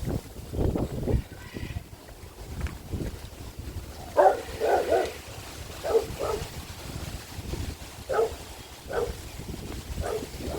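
A large dog barks several times at intervals, moderately close, over gusting wind noise and a low rumble.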